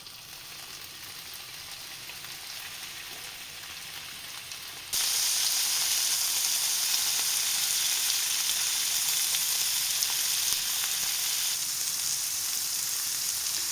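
Food frying in vegetable oil in a pan, a steady bright sizzle that jumps noticeably louder partway through and holds dense and close with no voices.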